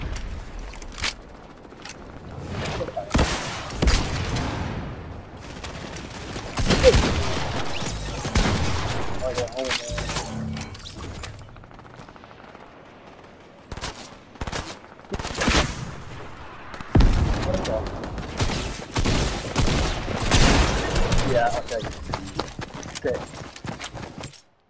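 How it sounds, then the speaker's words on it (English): Gunfire in the Fortnite video game, with rapid bursts of shots and heavy volleys that come and go, loud and close, while a player talks over them. "Why are you shooting me?"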